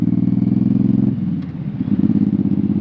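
Suzuki Boulevard M109R cruiser motorcycle fitted with a Cobra Swept series exhaust, idling close up with a deep, throaty, steady pulsing rumble and a slight dip and blip of throttle midway.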